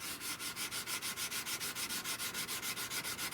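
Rapid back-and-forth sanding strokes on a part of a .410 garden gun during restoration, a steady rhythmic rasp of about six strokes per second, close and continuous with no talking.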